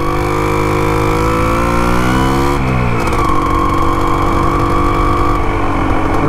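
A restored Can-Am motorcycle engine at a stop light is revved hard and held running, its loud buzzing pitch climbing and then dropping back, continuous and close with no talking.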